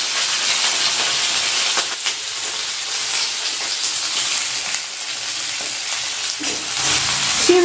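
Food fries in a pan on a home stove as a mother cooks dinner, giving a loud, steady sizzle and hiss that runs unbroken, with a brief clatter near the end.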